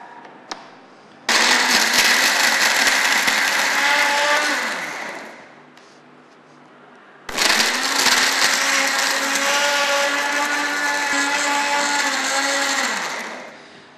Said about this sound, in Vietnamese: Chúng ta sẽ cho vào đây và cho máy xay đều lên.